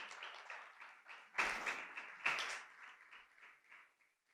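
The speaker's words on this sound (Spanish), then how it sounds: "¿Por qué no damos un fuerte aplauso a Dios por eso?" A church congregation applauds faintly after a sermon line, the soft clapping swelling in two brief bursts and then tapering away at a distance.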